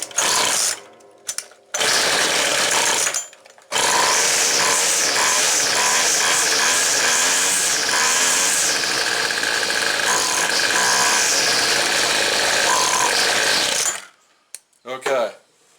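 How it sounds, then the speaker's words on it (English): A small two-stroke engine on carbureted garden equipment starts with a few short stutters, then runs at a loud, buzzy, steady pace that wavers and bogs down before cutting out and sputtering near the end. "When I had it on an idle and then went to give it fuel to give it some gas, accelerate it, did you hear how it bogged down?"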